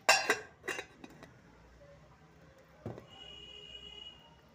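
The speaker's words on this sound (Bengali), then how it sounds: "স্ট্যান্ডটার উপরে আমি বাটিটাকে এবারে বসিয়ে দিলাম, দিয়ে এবারে আমি উপর থেকে ঢাকনা দিয়ে দিচ্ছি" A bowl is set onto a steamer stand over boiling water and then covered with an airtight lid. Two quick bright clinks come first, then a single knock a couple of seconds later, over a quiet background.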